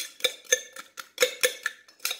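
Oreo cookies being crushed by hand for a shaker-made milkshake, giving about eight separate crunchy cracks in an uneven rhythm, close to the microphone and with no one talking.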